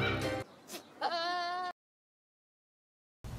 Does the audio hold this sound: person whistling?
no